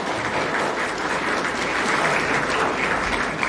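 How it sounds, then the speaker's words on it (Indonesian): An audience inside the Salman Mosque at ITB applauds with dense, steady clapping that holds at an even loudness throughout. "Boleh tepuk tangan, enggak apa-apa."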